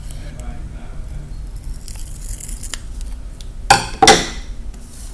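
Scissors trim excess yarn from a weaving loom, giving two sharp, close snips in quick succession near the end over a low background hum.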